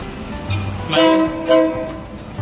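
A train approaches through a market in Thailand with two short horn blasts over a rumbling, rolling rattle on the tracks, fairly close.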